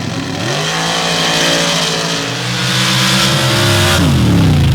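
Pro Stock drag cars at an MRA championship event making a pass, a loud, close roar of engines revving and pulling through gear changes, rising and shifting over several seconds.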